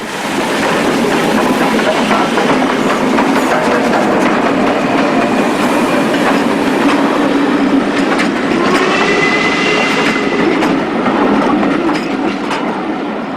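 A Stanier steam locomotive, 44806, passes close by at Berwyn on the Llangollen Railway for a sustained stretch, wheels clattering steadily over the rails, with some brief squealing tones near the end.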